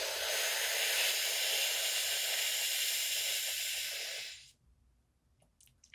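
A slow, steady inhaled breath drawn as if through a narrow straw, an airy hiss held close and even for about four seconds before cutting off into near silence.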